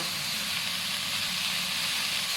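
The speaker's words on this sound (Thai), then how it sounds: "เอาหมูสับลงไปเลยค่ะ รวนให้เข้าเข้ากันนะคะ ใช้ไฟกลางค่ะ" Minced pork stir-fries in a pan over medium heat for a Thai stink bean and shrimp paste dish, giving off a loud, steady, close sizzling hiss that doesn't let up.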